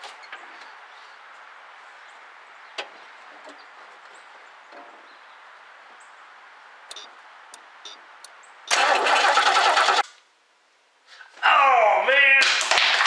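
A 1969 car engine cranks in two loud bursts after a stretch of quiet hum, the second attempt grinding and sputtering without catching.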